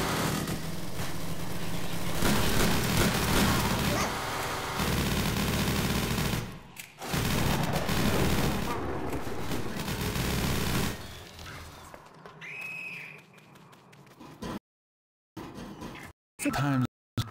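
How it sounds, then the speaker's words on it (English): Sustained machine gun fire in Garry's Mod Zombie Survival, dense and loud for most of the stretch, broken by brief pauses and a quieter tail with scattered game sounds, while a player talks over it. "This is a hell of a machine gun."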